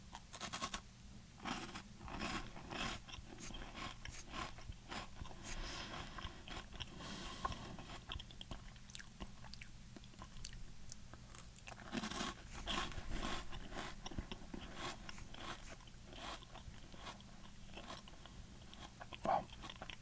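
Crunchy coconut wafer cookies are bitten and chewed close to the microphone, soft repeated crisp crunches and mouth sounds scattered irregularly over a quiet background.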